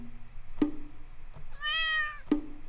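Bongo Cat meow sound effect marking beats in a music theory meter lesson: short, bright cartoon meows with sharp tap-like hits, a few spaced evenly over a couple of seconds, clear and alone.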